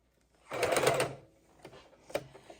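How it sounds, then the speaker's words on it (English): A sewing machine runs in short bursts while stitching fabric rag ties onto burlap: one longer whirring run, then a couple of brief stitches, fairly close and alone. "you got to keep checking what's going on with the sewing machine, making sure that burlap underneath is straight"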